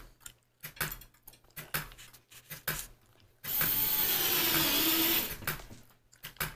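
Power drill driving screws into a wall to mount shelves, with sharp irregular knocks and handling noises before a loud, steady whirring run of about two seconds.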